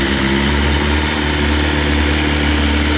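A BMW superbike engine idles steadily at close range, a continuous low rumble with a constant throb and no other sounds.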